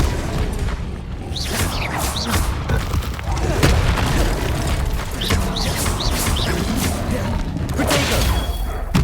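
Expelliarmus disarming spells cast in Hogwarts Legacy, a series of loud booming magical bursts and whooshes in quick succession amid combat noise, close and forceful.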